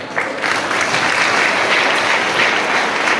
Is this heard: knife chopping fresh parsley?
no